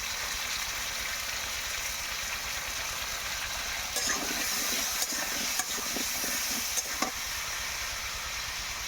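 Spices with turmeric powder fry in a pan for a cauliflower curry, giving a soft, steady sizzle and hiss with a few light clinks of a utensil near the middle.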